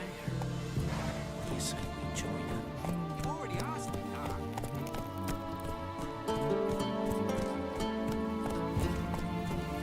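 In The Witcher 3, the horse Roach trots and gallops with a rapid, steady clip-clop of hooves heard up close, while someone talks and game music plays alongside.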